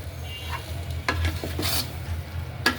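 Fried rice with sugar stir-fried in a pan: a soft sizzle beneath several distinct spatula scrapes and taps, close and moderately quiet.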